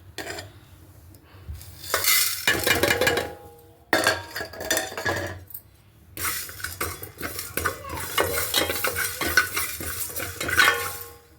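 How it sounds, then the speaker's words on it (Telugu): Peppercorns, coriander, mustard, cumin and fenugreek seeds dry-roast in a pan for a fish curry spice mix, with repeated scraping and stirring of a utensil against metal and light crackling, close and fairly loud. "కొద్దిగా మిరియాలు ధనియాలు కొద్దిగా ఆవాలు కొద్దిగా జీలకర్ర మెంతులు ఇవన్నీ వేసేసుకొని ఫ్రై చేసుకుందాం"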